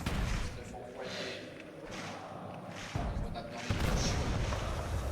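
Grenade and smoke-grenade blasts in a Call of Duty match, a cluster of heavy booms and thuds with gunfire, fairly loud under a caster talking over the action.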